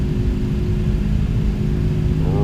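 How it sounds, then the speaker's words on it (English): MD-11 jet engines in a flight simulator spool up for takeoff as a loud, steady low roar with a constant whine, building thrust without any talk. "Thrust is coming up."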